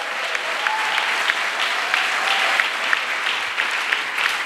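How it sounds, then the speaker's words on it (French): Worshippers at a church service clap for Jesus, a broad continuous wash of applause with scattered louder claps, full and close, with no voices breaking through. "Let us clap for Jesus."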